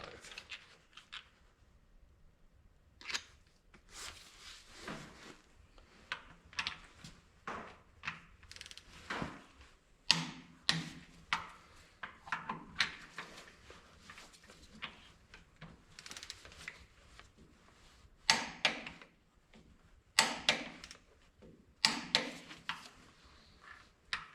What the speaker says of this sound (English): And she's torqued to 75 on both bolts.